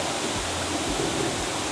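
A waterfall in Takachiho Gorge, Japan, gives off a steady broadband roar of falling water from a short distance, even and continuous, with a few low bumps nearby.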